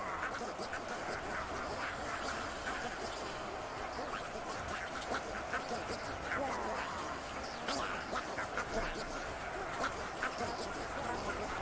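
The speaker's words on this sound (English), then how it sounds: "you can hear the old squawks of the ducks" Ducks squawking and quacking in the video game Ultimate Epic Battle Simulator II, a busy, continuous chatter of many birds mixed with a crowd-like babble.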